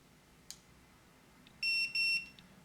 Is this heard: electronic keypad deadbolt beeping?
yes